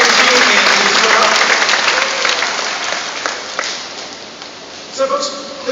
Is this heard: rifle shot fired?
no